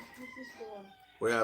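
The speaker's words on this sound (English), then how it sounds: "Can you guys hear the roosters in the background?" Roosters crow in the background of a home in the Philippines while a person talks quietly, and then a loud, close crow bursts in at the very end.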